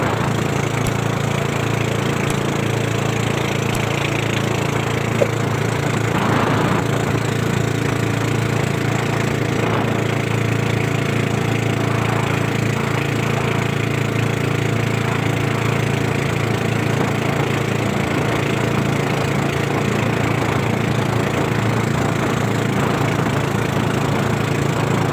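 A motorboat engine drones steadily and evenly throughout, a constant mid-pitched mechanical hum with no speech.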